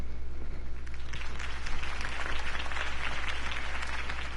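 Steady applause from a large crowd in the video game Batman: The Telltale Series, dense clapping with no pauses, holding at an even level over a low constant hum.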